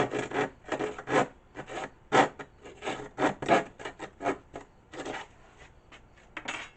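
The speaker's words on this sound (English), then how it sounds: "I'm using just a saw blade to cut the rest of it gently." A bare saw blade rasps gently through a Ford Mustang hood panel being chopped for a Scion xB part, in close, uneven back-and-forth strokes with short pauses between them.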